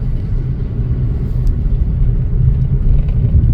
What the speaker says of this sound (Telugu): చూడండి పెద్ద పెద్ద లారీలు వెళ్తున్నాయి